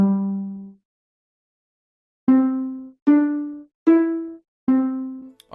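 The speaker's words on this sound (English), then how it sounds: "That is the low sounding one." Low-pitched Minecraft note-block rendition of the Five Nights at Freddy's 6 AM chime: one sustained tone fades into a pause, then four evenly spaced, bright plucked notes ring out clearly with no other sound.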